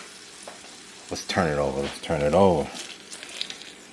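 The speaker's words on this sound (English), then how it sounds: "You just want to let it sizzle in there." A burger patty sizzles in a frying pan over low heat, a steady soft crackle beneath a person speaking briefly.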